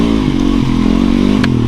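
A dual sport motorcycle engine runs loud and close while riding off-road, a rough, throbbing drone with small shifts in pitch and a clattering knock near the end.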